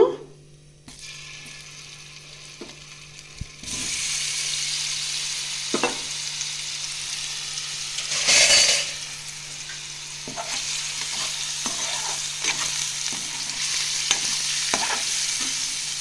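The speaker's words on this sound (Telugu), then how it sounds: "ముందుగా మనం మ్యాగ్నేట్ చేసుకున్న పన్నీర్ని ఫ్రై చేసుకుందాము" Steady hiss of marinated paneer frying in hot oil, continuous and fairly loud, with occasional clinks and stirring scrapes and a brief louder burst midway.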